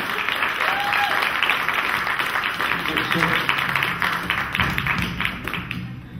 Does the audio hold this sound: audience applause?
yes